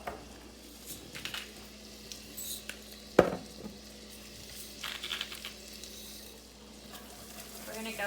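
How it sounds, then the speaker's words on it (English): Garlic dropped into melted butter in a pan for shrimp Alfredo makes a low, faint sizzle, broken by scattered utensil clatters and one sharp knock partway through. "Now that our butter is melted, we're going to go ahead and add some garlic."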